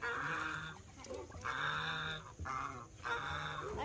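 Chickens cluck in repeated bursts of clucking, each lasting about a second with short pauses between, moderately near and fairly quiet.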